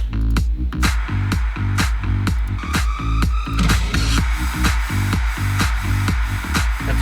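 White noise effect in an electronic dance track, a hissy wash that swells through the middle of a loud mix driven by a steady kick drum and rhythmic hits.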